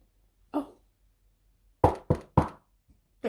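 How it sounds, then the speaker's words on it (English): Knocks at a door: a single rap, then a quick series of three firm knocks and another starting at the end, each sharp, close and clear against near silence. "there was a knock at the door"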